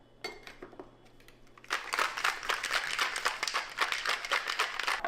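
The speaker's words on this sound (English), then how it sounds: "Then we're just going to shake that up." Ice rattling hard inside a cocktail shaker as a relaxing-tonic mocktail with water is shaken, a dense, rapid, steady clatter that starts after a few faint clinks and continues loudly to the end.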